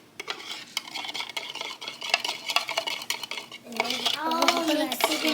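Chex Mix being stirred in a bowl, with a quick run of close clinking and scraping strokes of a utensil, followed by a brief rustle of the snack mix, no speech over it.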